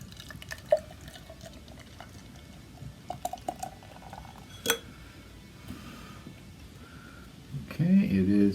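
All-malt porter beer is poured into a glass, with a short burst of liquid splashing at the end after a few faint clinks and drips in a quiet room.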